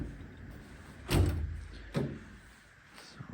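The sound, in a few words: large toolbox drawer sliding fully open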